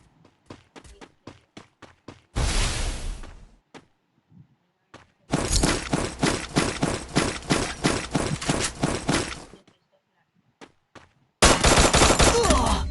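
Video-game gunfire crackles in sharp repeated single shots, then erupts into dense sustained automatic bursts, with a short pause before another burst at the end; no speech is heard.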